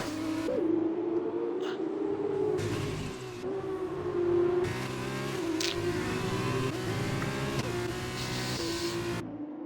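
F2 race cars in an Xbox racing game at a Belgium circuit scream past with a steady high engine whine that rises and dips between gear changes, loud and continuous, with no talk.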